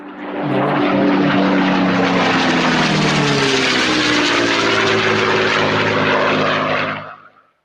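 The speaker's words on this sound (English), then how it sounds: "Vulcan howling down the runway on Ascension Island" An Avro Vulcan bomber roaring down the runway on Ascension Island, a loud, sustained engine howl with a falling whine that stays close and intense for several seconds before cutting away.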